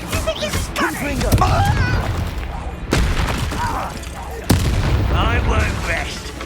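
Confringo fire spell explosions in the video game Hogwarts Legacy, with two sharp booming blasts over a busy bed of voices and game sounds.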